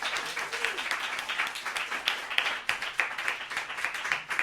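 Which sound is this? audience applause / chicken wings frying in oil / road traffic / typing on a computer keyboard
audience applause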